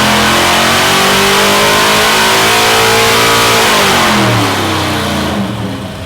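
A 632-cubic-inch big-block V8 screams at high rpm during a dyno pull, holding a loud steady roar before the pitch sweeps and the engine backs off near the end.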